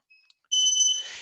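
Workout interval timer beeping before a PVC mobility stretching session: a few faint short beeps, then a loud, sustained high-pitched electronic beep that tapers off at the end.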